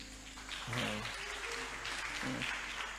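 Church congregation applauding, a moderate, fairly distant wash of clapping with voices and cheers mixed in over a low background hum.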